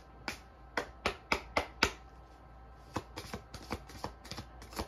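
Alice in Wonderland oracle deck cards being shuffled close up, a run of five sharp riffling bursts followed by a quicker, lighter series of shuffles, with no talking.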